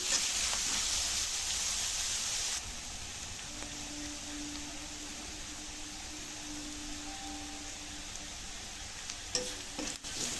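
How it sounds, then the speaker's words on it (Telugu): Shredded cabbage and carrot stir-frying in a pan for egg fried rice, a steady faint hiss of sizzling with occasional light clinks and stirring noises, no voices. "అలాగే వీటితోనే క్యాబేజీ, క్యారెట్ తురుము కూడా వేసుకోవాలి. బాగా వేయించాలండి."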